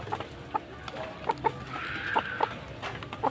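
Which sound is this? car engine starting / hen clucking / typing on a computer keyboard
hen clucking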